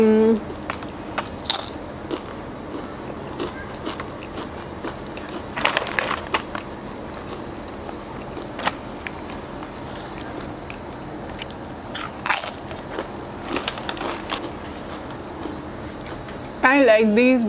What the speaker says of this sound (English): अब हम ये वाला चिप्स ट्राई करेंगे.